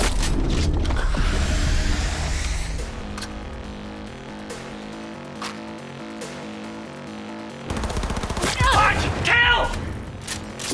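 A dense volley of gunfire in the video game Cyberpunk 2077, loud and rapid at the start, fading into mechanical game sounds and music, then another burst of shooting near the end.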